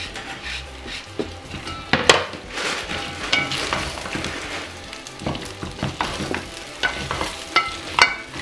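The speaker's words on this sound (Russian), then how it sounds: "Пока мясо с луком поджаривается, нарежу морковочки." Meat and onions frying in a pot with steady sizzling, repeated scraping stirs and occasional clinks of a utensil against the pan, close and moderately loud with no talking.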